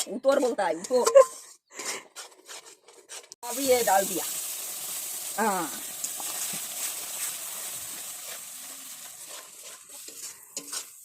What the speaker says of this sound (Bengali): আঙুর ফলটা বাদামের সঙ্গে ভালো করে এখন ভাজা করে নিতে হবে